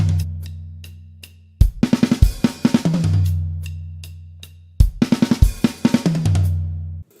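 A drum kit plays a verse fill: booming sustained bass notes, then rapid snare and tom hits with crashing cymbals, played twice, loud and close.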